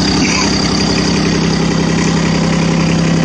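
Small mini excavator diesel engine idling close by, a steady even rumble with a faint high whine and no change in pitch.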